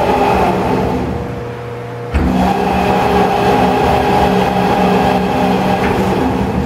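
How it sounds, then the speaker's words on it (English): Flagler rollformer with its motorized head adjustment running: a steady mechanical hum and drone that dips briefly, then kicks up abruptly and carries on evenly, loud and close. "We're going to show you the motorized adjustment."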